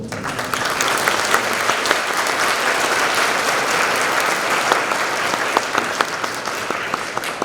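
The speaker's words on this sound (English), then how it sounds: "round of applause for all those people." An audience at a school band concert gives a steady, even round of applause, dense clapping that holds for several seconds with no talk over it.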